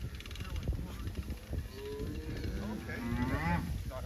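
Cows and calves moo repeatedly as the cow/calf pairs are moved to fresh grass on an Alberta pasture, several overlapping bellows near and far over steady outdoor background noise.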